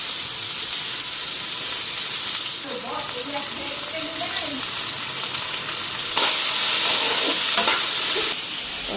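Potatoes frying in oil in a pan, a loud, continuous close-up sizzle with stirring scrapes, briefly swelling louder toward the end, while a voice murmurs faintly underneath partway through.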